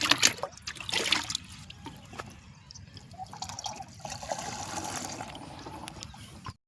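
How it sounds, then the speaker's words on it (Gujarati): Water splashes and gurgles into a plastic pump sprayer tank holding dissolved fungicide powder in an uneven, continuous pour, with occasional knocks of the container. "ચલો હવે નાખી દેવાનું પાણી"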